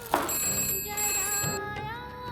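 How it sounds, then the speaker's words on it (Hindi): A telephone bell rings steadily at close range in an indoor scene, its bright repeated tone running through the whole moment with a brief burst of other noise near the start. "कभी ये घंटी बजती है, कभी वो घंटी बजती है।"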